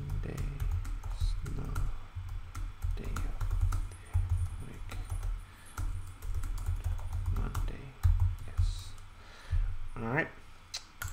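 Computer keyboard typing in a steady run of quick clicks and key taps, moderately close, with a soft low hum underneath and no talking.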